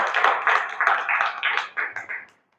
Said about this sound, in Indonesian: Tepuk tangan untuk Raihan.